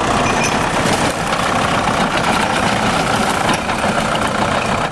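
A heavy diesel tractor engine rumbles steadily and loudly throughout as its tracks crush fruit, with dense low-end roar and constant mechanical noise, close by.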